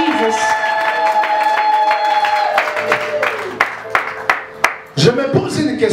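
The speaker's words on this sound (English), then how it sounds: "clap for Jesus." Church congregation clapping during a Sunday prayer service, sharp distinct claps in a loose rhythm under a sustained voice and music tones that fade midway, with louder scattered claps toward the end.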